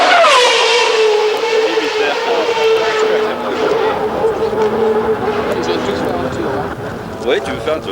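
A 1995 Renault Espace F1 engine screams at high revs, loud and continuous, with a falling pitch sweep that then holds a steady sustained wail close by.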